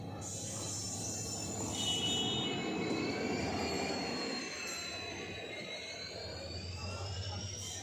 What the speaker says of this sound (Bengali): দেখতে দেখতে ট্রেন চলেও আসছে প্রায়